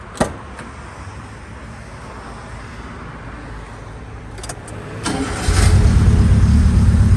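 A car fitted with two exhaust mufflers sits quiet before its engine cranks and starts, then settles into a loud, steady close-up idle with a deep exhaust rumble.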